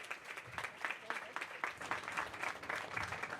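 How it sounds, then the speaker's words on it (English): Audience applause at a school ribbon-cutting ceremony, a steady wash of many hands clapping with distinct claps standing out, moderately distant and sustained throughout. "Let's give yourselves a round of applause for this amazing day."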